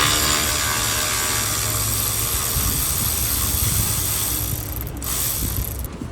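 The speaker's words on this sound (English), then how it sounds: "I'm just going to release this Torx here in the center" Ratchet loosening the center Torx screw on the front grille of a BMW M340i with a B58 engine, a steady close mechanical clicking that runs almost continuously without any talk.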